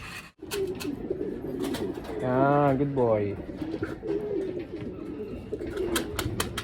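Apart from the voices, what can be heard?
pigeons cooing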